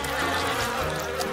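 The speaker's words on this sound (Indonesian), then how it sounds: "Tidak, itu banyak sekali lebah." Swarm of bees buzzing around honey being scooped into a bottle, a dense, continuous droning hum that stays loud and steady throughout, with no speech.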